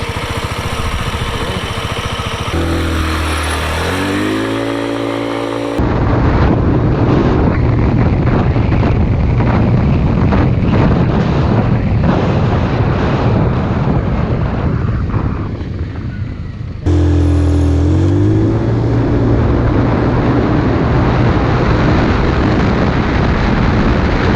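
A Lexmoto Enigma 125cc moped accelerates from a standstill, its small engine whining upward in pitch before loud wind buffeting swamps the microphone, then revving and climbing again near the end, with no talking.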